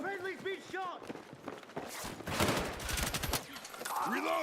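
Gunfire in the Battlefield 6 video game comes as rapid bursts of shots across the middle of the clip, mixed with footsteps and the rattle of movement, while voices talk around them.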